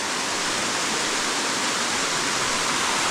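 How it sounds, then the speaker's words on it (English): A waterfall near a village roars as a dense, unbroken rush of falling water, loud and close throughout without any voices. "Today is the first day to be in this waterfall."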